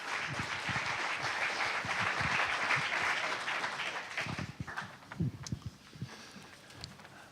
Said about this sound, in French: On applaudit encore bien fort et on le salue.